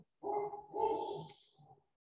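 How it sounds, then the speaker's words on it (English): A dog barks a couple of times indoors at home, faint and somewhat distant, the barks running together into a short, drawn-out outburst. "Are your dogs going crazy, Trish?"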